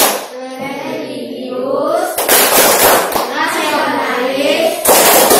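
A classroom of students does a rhythmic group clap led by a teacher, short bursts of loud unison clapping alternating with chanted voices, a spoken voice first and then clapping in segmented bursts.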